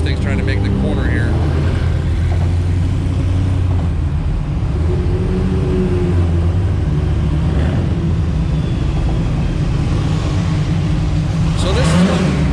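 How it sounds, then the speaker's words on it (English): A Ford Mustang rounds a corner at a busy car meet, its engine roaring loud and steady throughout, with a rising rev near the end and voices talking over the din. "Mustang's trying to make the corner here."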